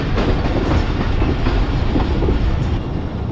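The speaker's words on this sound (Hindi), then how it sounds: "ओवरटेक करते ही ट्रेन की स्पीड काफ़ी स्लो हो गई है।" The Karakoram Express rolls along the tracks between Lahore and Karachi, heard from inside as a loud, steady rumble with continuous clickety-clack of wheels on rail joints.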